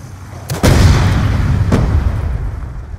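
A bomb goes off in Black Ops 2 with a loud, close boom after a short lead-in, then a long rumbling tail that slowly fades, with a fainter crack following.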